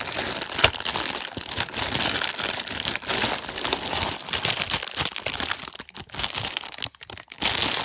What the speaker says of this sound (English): Bubble wrap, a Japanese game with some bubble wrap.